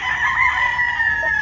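A bullstag rooster crows once in a drawn-out, close and fairly loud call at a poultry yard, the strained tone holding steady for its full length.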